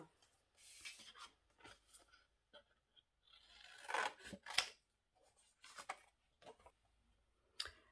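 Scissors snip and slide through gift packaging material while a lemon-themed gift set with tea and Yogurette is wrapped, giving a run of short, crisp cuts with rustling in between.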